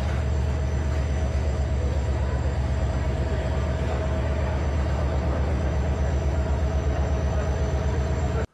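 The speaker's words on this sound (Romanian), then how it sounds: "locomotiva care a tras trenul până la peronul 14 din gara de nord" Train hauled by a CFR locomotive pulling into platform 14 at Bucharest's Gara de Nord, a steady, loud low rumble and rolling drone with a faint high whine, continuous throughout before cutting off.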